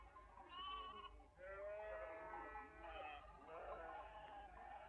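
Sheep bleat in a flock, several wavering calls overlapping one after another, moderately close and fairly quiet.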